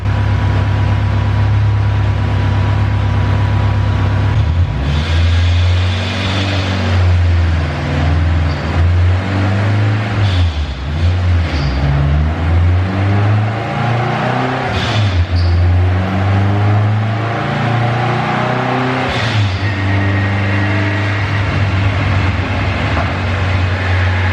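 A turbocharged Honda Civic with a K24 engine and all-wheel drive runs on a dyno, holding a loud steady drone as revs climb and fall in long sweeping pulls. No one speaks over the engine.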